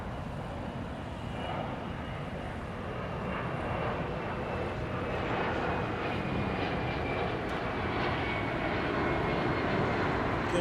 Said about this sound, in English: Here's a private jet.